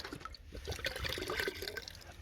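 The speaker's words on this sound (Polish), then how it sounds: "Wypłuczę tą butelkę jeszcze," Water sloshes and splashes inside a bottle as it is rinsed with water poured from a large bucket, a steady, close wet rushing lasting about two seconds with no talking.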